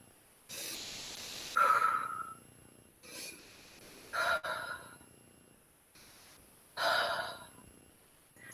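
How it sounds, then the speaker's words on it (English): Slow, deep breathing in and out, three long audible breaths spaced a few seconds apart, each with a rushing, airy onset, close and clear with no talk. "Inhale and exhale."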